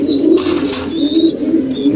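Domestic pigeons in a loft with young squabs coo steadily and loudly at close range, low throaty rolling calls overlapping continuously, with a brief rustle early on.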